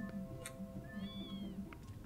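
Two cats meowing in the Twilight Princess video game, a few short mews over a steady game-music and background drone.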